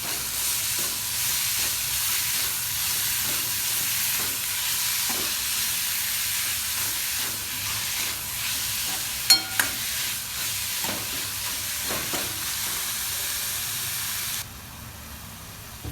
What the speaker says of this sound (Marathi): पालकाची भाजी मसाल्यात मस्तपैकी मिक्स केली आहे